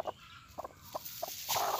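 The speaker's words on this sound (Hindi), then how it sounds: "ये बटेर के बच्चे 17-18 दिनों में निकल चुके हैं।" Newly hatched quail chicks, brought out from eggs set under a hen, give a few short high chirps and peeps, quiet and scattered over a soft background.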